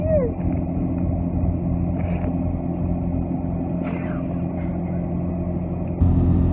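An engine runs with a steady low rumble and drone, close and constant, while people talk over it, and the sound grows slightly louder near the end.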